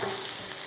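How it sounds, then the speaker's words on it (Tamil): Three green chillies are sautéed lightly in a pan while chicken fried rice is being made, a short, close, steady hiss of frying with no voices. "அடுத்து ஒரு 3 பச்சை மிளகாய் லைட்டாக வதக்கிடலாம்."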